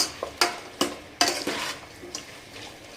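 Vegetables with coriander powder are stirred in a pan for vegetable biryani, with several close, sharp scraping strokes of a spoon over a soft sizzle.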